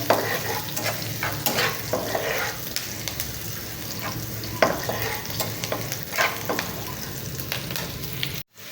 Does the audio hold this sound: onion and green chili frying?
yes